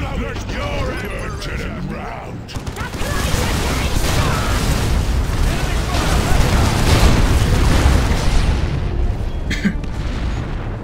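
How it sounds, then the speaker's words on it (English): Heavy rumbling explosions and booming blasts as a tank is destroyed by turret fire in the Dawn of War Retribution Ork campaign, loud and sustained with dense low battle noise and a voice speaking over it. "The tank gets shot down by his own team's turrets."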